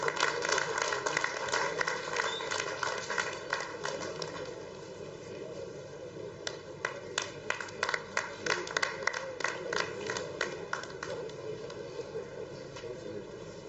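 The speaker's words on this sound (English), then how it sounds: "Please, big round of applause for these bright students." A crowd at a college cultural evening applauds students, a steady mass of clapping that continues as a more rhythmic, in-unison pattern, with talk and noise in the hall.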